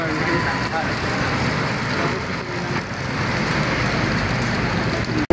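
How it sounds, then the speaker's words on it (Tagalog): Light rain falls at a ferry port before boarding, a steady hiss of drops on surfaces mixed with low vehicle rumble and some nearby talk, even and continuous until an abrupt knock at the end. "medyo umuulan"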